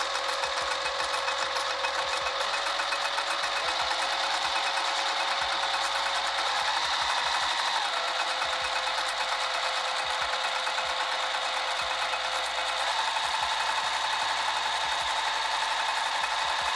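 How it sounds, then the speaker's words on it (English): A sewing machine stitches fabric layers together for a dress bodice with its lining, running in a steady, continuous mechanical whir with brief shifts in pace, close and alone without talk. "I'm just sewing those layers together so it doesn't give me a headache on the next step."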